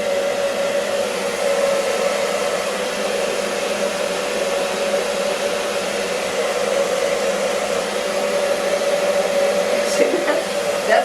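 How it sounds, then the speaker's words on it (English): A blow dryer runs continuously close by, blowing hot air onto hair during a razor haircut on a live model, with a steady loud whooshing roar and a faint whine that barely changes throughout. "Do not point the blow dryer onto the scalp. Always off to the side."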